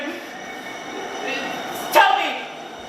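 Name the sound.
underground train arriving and leaving, stage sound effect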